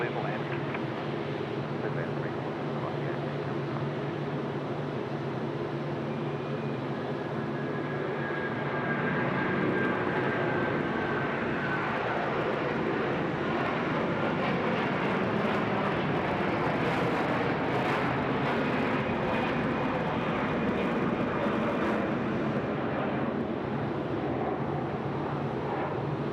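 China Eastern airliner taking off from runway 34 left at Sydney Airport, a steady distant jet roar that swells slightly as it climbs, with faint talk beneath.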